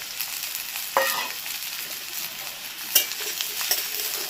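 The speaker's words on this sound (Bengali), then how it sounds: "আলুটা কিছুক্ষণ নাড়াচাড়া করে" Potatoes being stirred as they fry in a pan, a soft steady sizzle with a few sharper scraping clicks of the spatula, close and fairly quiet with no talking.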